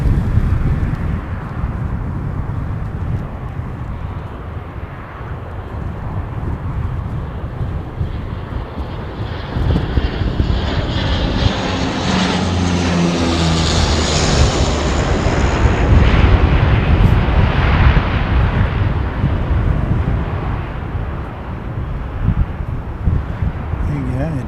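A Dash 8 turboprop airliner passes an airport in Christchurch, its engine drone and propeller whine swelling to a loud peak midway and easing off, with wind buffeting the microphone and a person speaking over it.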